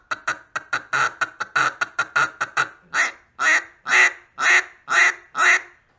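A triple-reed duck call is blown to imitate a mature hen, starting with a rapid run of short, gravelly, low quacks and slowing into several longer, drawn-out quacks, loud and close with no talk.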